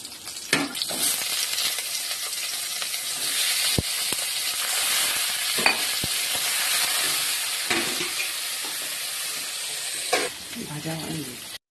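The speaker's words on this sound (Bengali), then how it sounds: "আলু দিয়ে বেশ কিছুক্ষণ নেড়ে চেড়ে লাল করে ভেজে নেব।" Potato pieces frying in oil in a pan for a Bengali vegetarian banana-flower dish, a steady loud sizzle broken by scraping stirs and a few sharp clinks of the spatula, with a brief stretch of speech over it.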